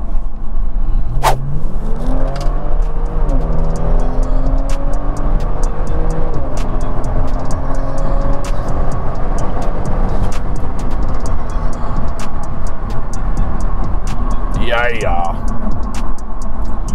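A tuned Kia Stinger GT making about 420 AWHP, accelerating hard onto the interstate: a loud, close engine roar climbing in pitch through several quick gear changes, with sharp crackles on top and brief talk near the end.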